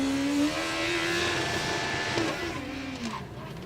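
Formula Student race car on an autocross lap, its engine droning at a steady high pitch and then easing off under braking, moderately distant and alone.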